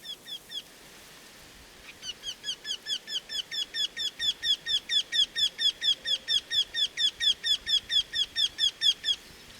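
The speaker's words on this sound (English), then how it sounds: "The lake-dotted landscape in the south of Hanover attracts a rarity. The Eurasian wryneck." Eurasian wryneck calling in dry lakeland south of Hanover in the Leine Valley, a long run of rapid, evenly spaced sharp calls that starts after a brief quiet and grows louder, clear and close with no talk.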